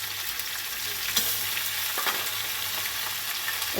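Chilli paneer with sugar, salt, green chilli sauce, tomato ketchup and soy sauce is stirred in a frying pan over lowered gas, giving a steady close sizzle with scraping spoon strokes and occasional sharper clacks.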